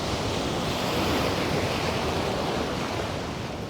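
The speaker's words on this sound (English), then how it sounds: "I'm just gonna listen to the waves, take deep breaths" Ocean surf rolling in at Ponte Vedra Beach, a steady broad wash of breaking waves with some wind, close and continuous throughout with no voices.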